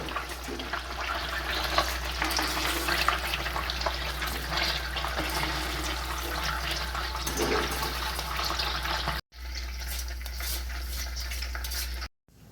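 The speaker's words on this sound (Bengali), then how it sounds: "এইভাবে ক্ষীরের বলগুলোকে ময়দার ব্যাটারে চুবিয়ে হালকা আঁচে ভেজে তুলব।" Khoa balls dipped in flour batter fry on low heat in oil, giving a steady, even sizzling hiss that runs without a break, briefly cutting out near the end.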